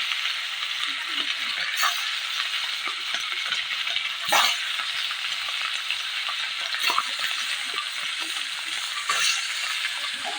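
Fish frying in hot oil in a kadhai, a steady dense sizzle with a few sharper crackles and spits standing out over the bubbling hiss.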